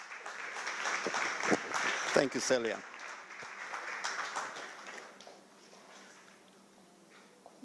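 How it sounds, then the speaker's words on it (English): Conference audience applause rises in scattered, moderately loud clapping mixed with talk, then thins and fades away, leaving a quiet room with a brief spoken thanks. "A round of applause, guys, for him"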